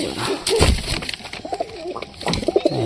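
Pigeons cooing at home in soft repeated low coos, several short phrases close by with faint background rustle.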